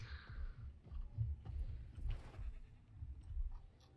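Sheep in the Jurassic World Evolution video game bleating faintly, a few short nasal calls at the start over low rumbling game ambience, fairly quiet and distant.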